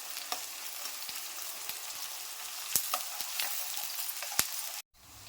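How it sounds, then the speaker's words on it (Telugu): Thinly sliced onions frying in a pan, a steady soft sizzle with scattered crackles and pops, close and fairly quiet, cut off by a short gap near the end. "ఆనియన్స్ వేసుకొని లైట్ గోల్డ్ కలర్ వచ్చే వరకు ఫ్రై చేసుకోవాలండి"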